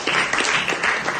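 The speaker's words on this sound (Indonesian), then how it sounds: "Tepuk tangan." A classroom of students claps in a short, lively burst, close and fairly loud, with no talk over it.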